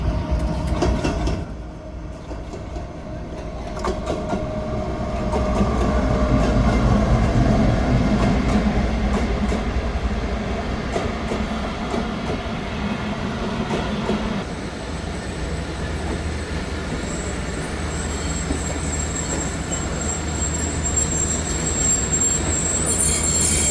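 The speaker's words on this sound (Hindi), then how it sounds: "और ये हमारी ट्रेन साहिवाल से रवाना हो रही है।" A passenger train on a Pakistani line pulls out of Sahiwal while the Khyber Mail goes by the other way, with loud continuous rumble, wheel squeal and clattering close at hand over roughly twenty-four seconds.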